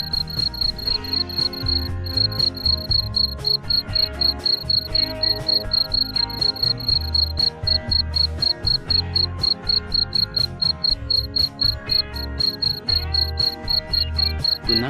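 Crickets bred in a box-style cage chirp continuously in loud, rapid, evenly pulsed trills, close by, over a low rumbling background.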